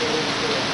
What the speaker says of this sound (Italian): Piove di bestia qua